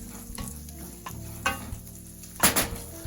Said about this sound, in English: I'll go ahead and add the meat while it's cold